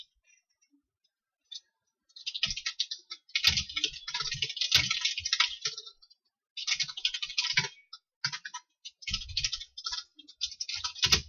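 Rapid, clicky typing on a computer keyboard comes in close bursts separated by short pauses.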